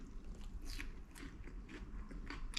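Crunchy fish fingers, served with wedges in a British-style snack box, being bitten and chewed close up, with a steady run of crisp crunches and mouth noises over about three seconds and no talking.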